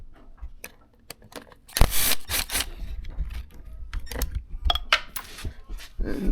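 A 10mm socket works bolts loose on a pickup's parts, with sharp metallic clicks, taps and rattles in irregular bursts, some close and loud, others faint.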